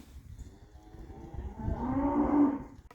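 A cow on a farm lets out a long, low moo that swells and holds near the end, heard fairly close over faint background noise.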